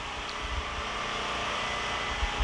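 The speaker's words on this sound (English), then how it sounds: "But that noise is the generator." A generator running outside a home workshop on a cold, sunny day, giving a steady broadband hum and rush that holds level throughout, with a few faint low thumps near the end.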